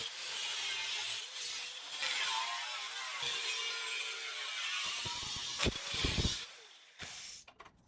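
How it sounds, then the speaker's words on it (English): Rusty metal being cut on the body of a 1966 Triumph GT6, a steady harsh abrasive rasping that runs for several seconds, then breaks into a few louder, choppier bursts before trailing off. "I think it's time to start cutting the rust and see what we're gonna expose."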